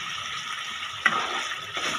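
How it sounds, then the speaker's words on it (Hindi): Water poured into a pan of peas, a soft steady trickle with a small splash partway through, close and fairly quiet. "इसमें थोड़ा पानी ऐड कर दें"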